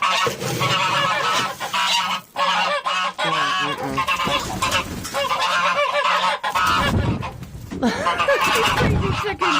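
A goose honks aggressively and repeatedly, loud and close, in a chaotic farmyard with chickens, while a person talks and shouts over the honking.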